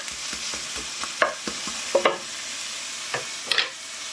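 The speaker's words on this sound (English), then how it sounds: "that's the onions sizzling away nicely" Onions sizzle in a pan over low heat, a steady soft hiss broken by a scatter of sharper clinks and scrapes as they are stirred, close and fairly quiet.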